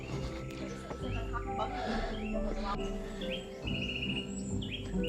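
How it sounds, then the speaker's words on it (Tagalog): Birds chirp and tweet in repeated short calls on a forest trail on Mt Ayaas, Philippines, amid a steady outdoor ambience, with faint low rumble underneath; no clear talking. "Huni lang ng ibon talaga yung maririnig mo"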